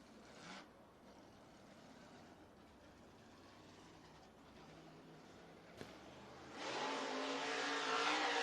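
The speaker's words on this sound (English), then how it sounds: "And Mitchell on the gas." A dirt track race car in car number 57 with a 5.7 engine, at North Georgia Speedway during a Super Dirt Series qualifying run, rumbling steadily at a distance before its engine swells loudly as it gets on the gas.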